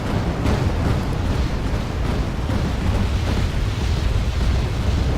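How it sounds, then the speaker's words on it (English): A BMP fires at LVTPs in Wargame Red Dragon against a continuous, dense rumble of battle, with booms and bursts merging into a heavy low roar throughout. "Have my BMP shooting at their LVTPs"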